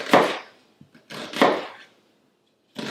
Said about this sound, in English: So if you just cut into the onion